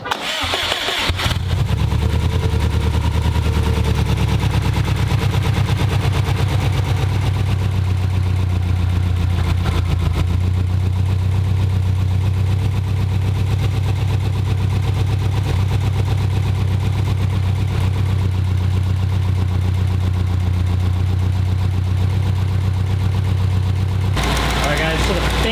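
A rebuilt Subaru EJ207 STI flat-four engine catches on its first start and settles into a steady, loud, close idle with a deep, even drone that holds for over twenty seconds before cutting off abruptly.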